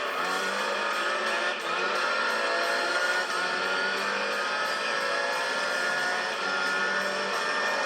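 Race cars in the Gran Turismo 3 game, including an Arta NSX, with a steady engine drone and a car closing in and going past throughout, continuous and moderately loud with no talking.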